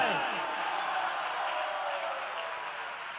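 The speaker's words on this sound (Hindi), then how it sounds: "big round of applause to our Gurukul के हमारे बच्चों के लिए जोरदार तालियां हो जाए।" A crowd at a Haridwar spiritual gathering applauds gurukul children, giving a broad, continuous wash of clapping that fades gradually.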